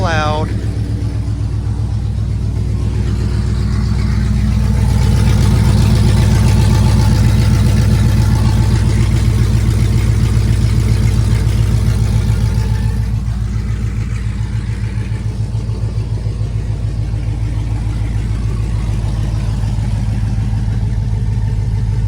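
A stock car engine on open headers idles loudly and roughly, with a steady, throbbing rumble. Someone talks over it the whole time.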